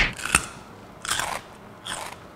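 Someone bites into a raw purple potato from Peru, three separate crisp, crunchy bites spaced about a second apart, close and clear with no talking.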